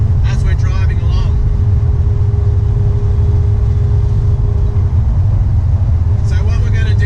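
Mazda RX8 with a 13B rotary engine cruising on a road during tuning, a loud, steady low cabin drone from start to finish, with someone talking over it at the beginning and end.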